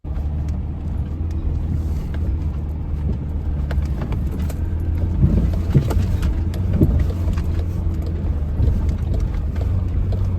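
A Mitsubishi Pajero Mini drives down an off-road trail, its engine giving a low, steady rumble under constant wind buffeting, with scattered rattles and bumps from the rough ground and no talking.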